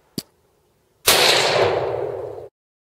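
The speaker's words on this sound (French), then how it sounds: "Un tir à la tête s'impose car nous allons farcir ce petit sanglier" A single loud, sharp gunshot fired into the head of a small wild boar, one brief crack followed by a long, dense burst of broadband noise lasting over a second.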